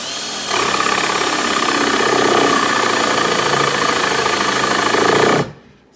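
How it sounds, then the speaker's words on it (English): A 1 1/2 inch hole saw drills into a live-edge wooden charcuterie board with a loud, steady, grinding buzz for about five seconds before stopping abruptly. "I found a 1 1/2 inch hole saw"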